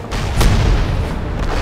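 In the video game Crysis, a nearby explosion lands with a heavy, booming rumble that swells and lingers as a dense low roar for over a second, with no speech.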